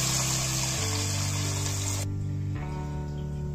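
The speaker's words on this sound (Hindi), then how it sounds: "तो ये देखिए हमने पानी डाल दिया है" Water poured into a roasted vegetable masala khichdi mixture of rice and lentils, a steady gushing splash that cuts off after about two seconds, leaving a quiet bubbling tail, with no voices.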